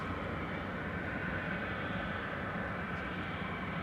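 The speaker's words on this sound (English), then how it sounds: "We have still got the DC-6" Piston engines of an ex-US Navy Douglas DC-6 airliner drone in a steady, broad roar at an airfield in Anchorage, constant and fairly loud without any voices.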